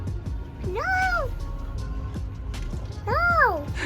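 Two distinct meows from a black cat, a second apart, close by, over a quiet background with faint rustling.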